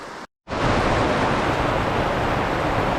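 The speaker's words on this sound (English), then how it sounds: "as you can tell, We have a hard storm coming through" A hard storm sweeps over a campsite by Penns Creek in Bald Eagle State Forest, a dense, roaring wash of wind and rain. It stays loud and steady except for a brief dropout near the start.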